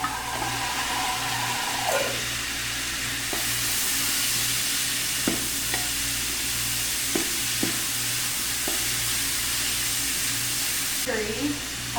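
Onions, garlic and red and green peppers sizzling in a pan for a cooked salad filling, a steady bright hiss with occasional stirring knocks, heard close over a low background hum.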